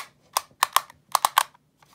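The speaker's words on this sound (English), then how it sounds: "they are magnetic, so, yeah, they'll just click into place" QiYi magnetic clock pieces snapping into place, six sharp plastic clicks in quick irregular succession, close and crisp against a quiet background.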